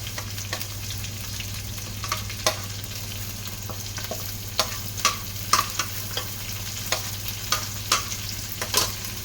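Sliced onions and green chilies fry in oil for a chicken curry, a constant sizzle under a low hum, punctuated by sharp spoon taps and scrapes against the pan every second or so.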